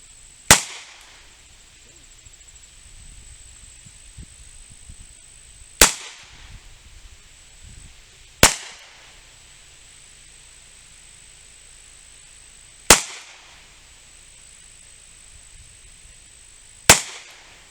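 Five sharp, loud shots from an Iver Johnson firearm at a shooting range, spaced several seconds apart, each a crisp crack that quickly drops back to a quiet hiss in between.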